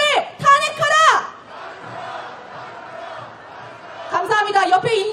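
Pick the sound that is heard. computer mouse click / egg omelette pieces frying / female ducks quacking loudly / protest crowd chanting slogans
protest crowd chanting slogans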